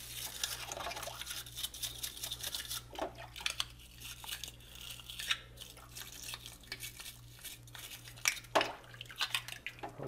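A bottle brush scrubs the inside of a dirty plastic pet water fountain, giving rapid wet bristly strokes with some dripping water and light clunks of the container, close and fairly steady.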